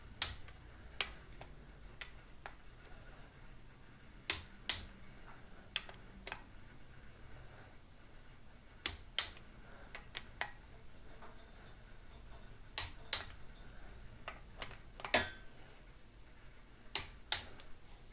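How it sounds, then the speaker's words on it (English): A torque wrench clicks repeatedly as bolts on a Ford 9-inch rear end are tightened to 35 foot-pounds, sharp isolated clicks arriving singly and in quick pairs at irregular intervals over a quiet background. "I'm going to go ahead and torque these to 35 foot-pounds"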